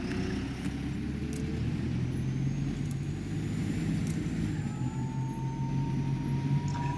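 Optare Solo bus driving in the video game OMSI 2, a steady low engine drone and road rumble with faint higher whines from the drivetrain, continuous and fairly quiet throughout.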